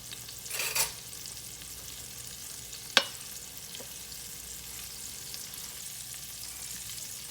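Ground beef frying in a pan gives a steady, soft sizzle throughout, with a brief scrape of stirring near the start and a sharp utensil click partway through.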